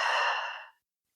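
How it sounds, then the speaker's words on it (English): A single slow, breathy exhale during a gentle hip mobility exercise, close and soft, fading out after under a second. "Breathing in and out."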